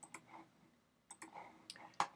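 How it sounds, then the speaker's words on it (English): A computer mouse double-clicks while editing in animation software, giving quiet, close, sharp plastic clicks in a few brief clusters with faint room hush between them. "double click and hit visible again"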